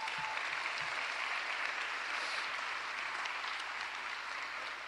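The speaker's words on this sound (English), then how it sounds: "Please give our cabinet a round of applause." A city audience at Philadelphia's State of the City address applauds the mayor's cabinet, a steady, fairly distant wash of many hands clapping at moderate volume throughout.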